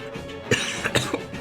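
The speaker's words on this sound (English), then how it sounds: "Why am I coughing?" A short burst of dry coughs, three or four quick hacks close to the listener, with no talking.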